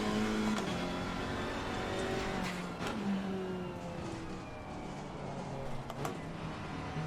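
A GT4 race car in the Assetto Corsa Competizione racing game revs and shifts through the gears, its engine pitch repeatedly climbing and then dropping at each change, steady and close throughout.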